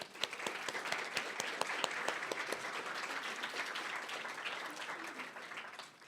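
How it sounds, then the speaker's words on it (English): An audience at the MESC 2018 Annual Institute gives a round of applause, with dense clapping that stays even and then tapers slightly near the end, and faint voices underneath. "So if we could all give them a round of applause."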